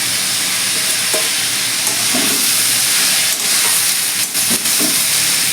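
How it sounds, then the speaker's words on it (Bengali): Fried prawns go into a pan of frying snake gourd, setting off a loud, steady broadband sizzle with a few stirring scrapes and pops, close and continuous, with no talk. "এবার আমি ভাজা চিংড়ি মাছগুলো দিয়ে দিচ্ছি।"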